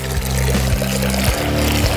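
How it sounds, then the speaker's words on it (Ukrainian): In a cartoon, water is poured into a laboratory flask, making a loud, continuous gurgling pour close up. "Беремо колбу, надягаємо захисні окуляри, а далі змішуємо воду і один токсичний препарат"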